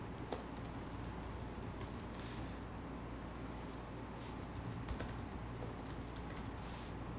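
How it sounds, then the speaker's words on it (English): Someone types on a computer keyboard, entering email addresses, with quiet, quick bursts of key clicks and a few sharper taps scattered across a soft background hum. No one speaks. "I can type in the email address of the person I want to collaborate with."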